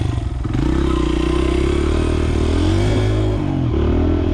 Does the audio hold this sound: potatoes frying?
no